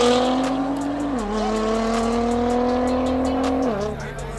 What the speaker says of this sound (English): R35 did a solo run.